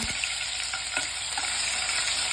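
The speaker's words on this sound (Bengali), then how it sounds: "প্রথমে রসুন ফোড়ন দিয়ে দিলাম তেলের মধ্যে" Garlic sizzles in hot oil as a tempering, a bright, steady crackling hiss close by with a few faint pops and taps.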